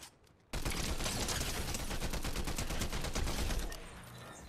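A burst of rapid automatic gunfire from a weapon in Fortnite, loud and sustained for about three seconds after a brief quiet start, then tailing off into fainter echoing shots.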